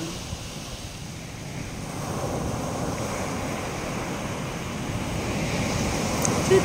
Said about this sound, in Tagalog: malakas yung hangin, kaya malalaki yung mga alon